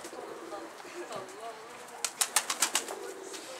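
A pigeon lands with a short run of sharp wing flaps, about six quick beats near the end, preceded by faint tonal calls and soft background sound.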